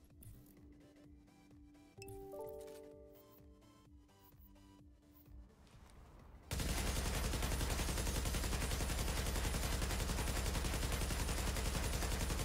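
Rapid automatic gunfire from hip firing in The Division, a dense, continuous burst that erupts suddenly after a quieter stretch of game music and keeps going loud and unbroken.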